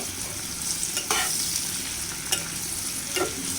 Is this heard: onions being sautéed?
yes